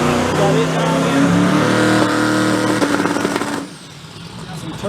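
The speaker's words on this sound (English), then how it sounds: "Got some Turbo Pro mods up there. Those things sound pretty good." Turbocharged Pro Mod drag bikes run at a drag strip, their engines giving off a loud, buzzing roar with a steady harmonic drone that cuts off sharply after about three and a half seconds.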